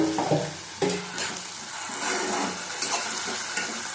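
Tomato and rohu fish pieces sautéing and being stirred in a pan of hot oil, a steady sizzle with sharper scraping bursts of the spatula close up.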